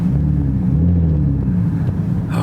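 Car engine rumbles loud and deep up close while cold, a steady throaty idle with slight wavering and no talk.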